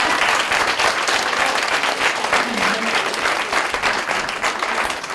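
A conference audience gives a round of applause, a dense, sustained wash of clapping at steady loudness throughout with no talk over it.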